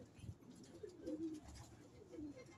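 Soft, low coos of pigeons in a loft repeating at a distance, faint against a quiet background rumble.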